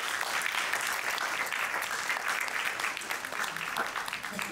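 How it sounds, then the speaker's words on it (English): A room full of people applauds, steady dense clapping that holds for several seconds and then begins to ease off. "join me in a warm round of applause to welcome our speaker for tonight"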